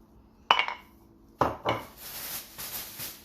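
Mortar contents dumped into a bowl while making whole fried chicken: two sharp clattering knocks of ceramic and utensils, then a scraping, rattling tumble that fades out, close and fairly loud with no talking.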